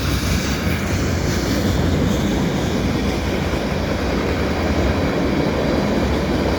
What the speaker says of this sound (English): this is the second train in fact, that came in the last 10-15 minutes heading east